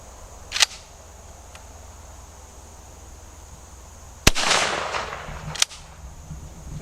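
Shotgun fitted with a turkey choke fires at a target 40 yards away outdoors, producing one loud sharp blast that decays with a rumbling tail, set among a couple of smaller cracks and clicks.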